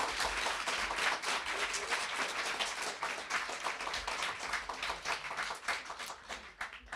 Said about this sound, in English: Could we get one last round of applause for everybody?